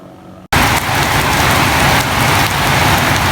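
Heavy rain pours down in a steady, loud hiss that starts abruptly after a brief quiet moment and continues without a break.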